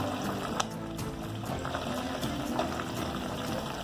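Chicken pieces fry in hot oil with a steady, dense bubbling sizzle and scattered crackles and pops throughout, with no talking.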